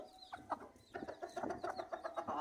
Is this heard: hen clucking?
yes